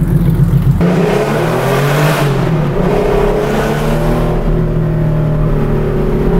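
A modified RWB Porsche accelerates hard on the street, its loud engine revving up through rising pitch sweeps and a gear change, close and continuous.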